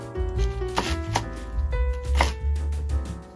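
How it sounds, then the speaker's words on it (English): A knife shreds cabbage on a cutting board while preparing Japanese yakisoba, giving rapid, steady chopping strokes that run close and clear over soft background music. "First, shred the cabbage."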